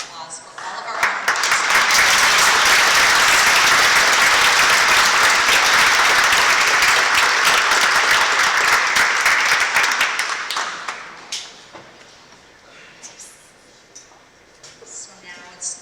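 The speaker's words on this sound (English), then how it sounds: "I think we should have one more round of applause for all of our honors." At an annual gala, a large audience gives the honorees a long, loud round of applause that holds strong for about ten seconds, then thins to scattered claps with voices under it.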